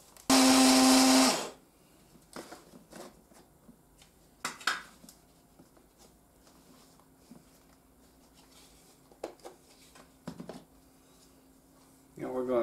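An electric grinder roars loudly for about a second grinding dried chilies into homemade chili powder, followed by quieter rattles, taps and handling sounds, with a brief restart at the very end.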